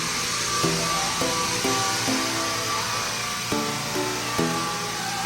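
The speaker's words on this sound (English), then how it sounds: "We got him on the barrel sander." A barrel floor sander grinds across a hardwood floor with a loud, continuous whirring roar, broken by regular thumps as the drum passes over boards.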